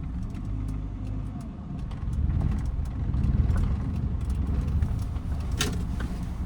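A car engine with a low, steady rumble that swells a little partway through, heard close from inside the car during a driving lesson on narrow lanes, with faint clicks and rattles over it.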